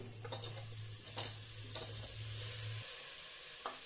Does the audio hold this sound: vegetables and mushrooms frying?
yes